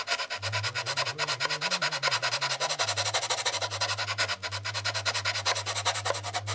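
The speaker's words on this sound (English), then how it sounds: "Since it's end grain, it's easier to do it with a sanding block." A sanding block is worked steadily back and forth across wood end grain, giving a continuous rhythmic scratchy rasp, close and alone, with a low hum beneath.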